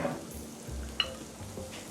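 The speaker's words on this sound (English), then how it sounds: "Saute for a minute while we get some seasoning salt out." Salmon sautéing in a pan for a crusted salmon dish, a steady low sizzle with faint stirring and one brief sharp clink partway through, heard close with no talking.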